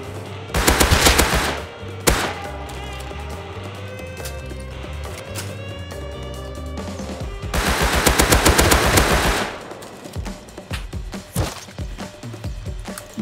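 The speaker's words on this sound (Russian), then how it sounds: "О, это впереди стреляют." Automatic gunfire in the survival game Rust: long rattling bursts of machine-gun fire with scattered single shots between them, loud and sustained across several seconds, with no voices.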